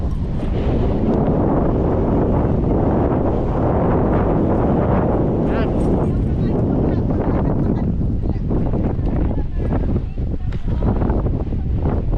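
Steady, heavy wind roars against the microphone without letup, with faint talking mixed into the rumble.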